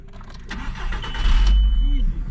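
A car engine cranks and catches after a jump start on a Balkan road trip, a brief loud rising start settling into a close idle, with voices under it.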